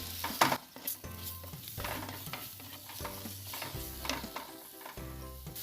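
A spoon stirs frying masala in a pan as tamarind goes in for Kerala-style crab kuruma, a close rhythmic scraping over a sizzle with steady background music.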